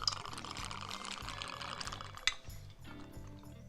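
Liquid pours steadily from a speed spout on a cocktail bottle while an Irish Blackthorn cocktail is mixed, a continuous close trickle with a brief clink near the end.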